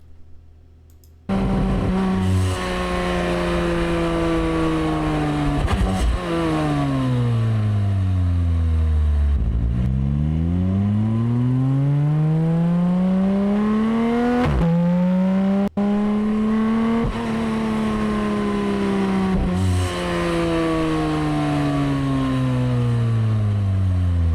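A Porsche 718 Cayman GT4 RS flat-six revs hard through repeated rising and falling sweeps, loud and close for the whole stretch, with sharp mechanical clicks between the throttle blips and no talking.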